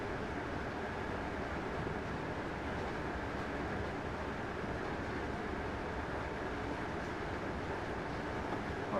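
Train Simulator 2017 train running near its 100 mph limit, a steady broadband rumble and rolling wheel noise that holds at an even level throughout, with no talk.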